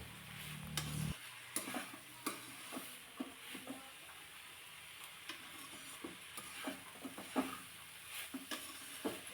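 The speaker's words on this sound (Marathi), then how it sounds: "ते अगोदर व्यवस्थित चांगलं हे मिक्स करून घ्यायचे" Soaked puffed rice (churmura) being mixed in a bowl, a steady run of soft scraping stirring strokes, close and fairly quiet, after a brief low hum at the start.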